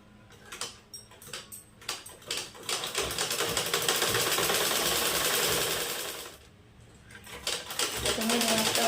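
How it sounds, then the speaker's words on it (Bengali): A sewing machine stitches a flag for Lord Jagannath, starting with short clattering bursts, then running in a long continuous rattle before pausing and starting up again. "প্রথমে আমি এই যে ধ্বজাটা যেটার মধ্যে আমি ভরবো সেইটা আমি সেলাই করে নিচ্ছি"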